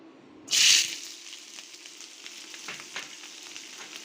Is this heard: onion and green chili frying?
yes